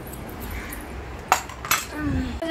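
Plate and cutlery handled before a meal: a couple of sharp metallic clinks and a scrape against a plate stand out over a quiet indoor background.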